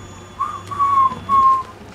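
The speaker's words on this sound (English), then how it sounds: "Somebody got a damn dog whistle?" A whistle in the horror video game Outlast 2 sounds as three short, thin, steady tones in quick succession, moderately loud and clear, with no speech over it.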